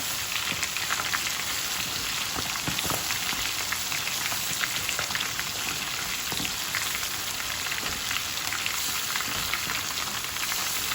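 Chicken pieces for Lahori chargha frying in hot oil in a pan, a dense, steady sizzle and crackle with scattered pops, close and constant with no talking.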